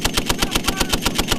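US Marines machine gun firing a rapid burst during a live-fire exercise at Camp Fuji, Japan, a loud, close, evenly spaced string of about a dozen sharp reports with no talk.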